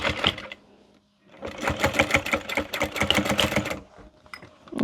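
Sewing machine running fast while top stitching a fabric lip gloss holder, a close rapid chatter with a brief pause near the start before a steady longer run.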